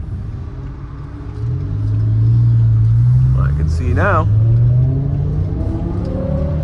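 A BMW E60 M5 drives through a tunnel, its engine rumbling loudly and rising as it accelerates, echoing off the walls, with someone speaking briefly over it.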